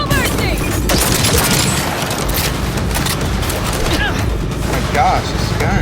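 Gunfire in the video game Cyberpunk 2077 rattles in dense, continuous bursts and booms throughout, loud and close, with excited voices talking over the shooting.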